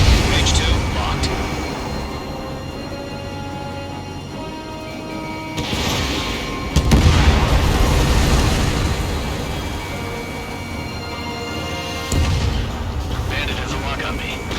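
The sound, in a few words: missile launch and explosion in video game Ace Combat 7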